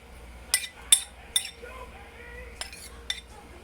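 A spoon scrapes and clinks against an 8x8 pan while a raspberry and mulberry crisp mixture is spread flat, several sharp metallic taps over a quiet background with soft scraping between them.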